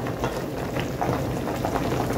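Cow foot curry simmering at a steady boil in a pot of added water, a continuous close bubbling and popping texture with no voices.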